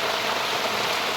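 Rain falls steadily in a short, even burst of broadband hiss with no distinct drops or breaks.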